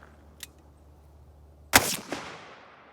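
A Smith & Wesson Model 69 Combat Magnum revolver fires a single soft point round, a sharp loud crack with a short echoing tail, preceded by a faint click.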